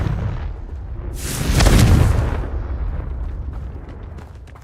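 A Confringo spell explosion in the video game Hogwarts Legacy: a single loud, rumbling blast that swells up and then slowly fades over a low background.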